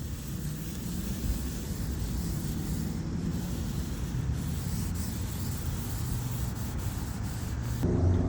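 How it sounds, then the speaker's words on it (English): A cloth rubs cleaning solution onto a car headlight lens in steady circular strokes, a continuous close-up scrubbing hiss with no pauses and no voices. "Again, to wipe it on the headlight, circular motion."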